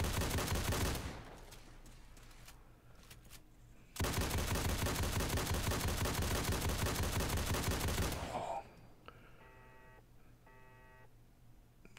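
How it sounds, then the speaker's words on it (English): Rapid bursts of AA-12 automatic shotgun fire in the video game Fallout 4, loud and dense, with a longer burst after a short pause, then quieter game interface beeps at the end. "there should be some hearing protection craftable at the chem station or something for this shotgun"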